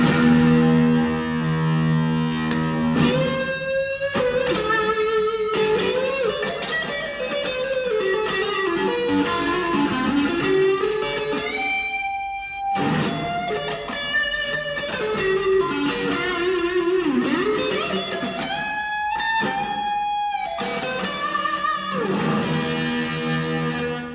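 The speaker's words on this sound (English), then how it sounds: "we put the distortion on, it's going to get noisy" Electric guitar played through distortion on its bridge humbucker, a loud, buzzy stream of sustained chords and single-note bends running continuously for over twenty seconds, with brief choked pauses between phrases.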